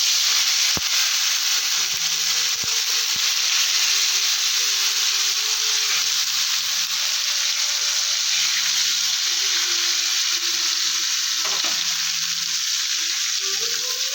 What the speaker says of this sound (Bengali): তেতে গেছে, এখন মাছগুলো অল্প অল্প করে ছেড়ে দেবো